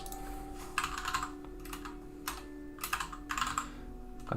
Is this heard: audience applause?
no